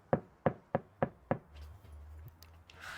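Five evenly spaced knocks on the hollow, untreated metal hood of a Toyota Tacoma with no sound deadening, each a sharp resonant thud, followed by a low hum and faint rustling.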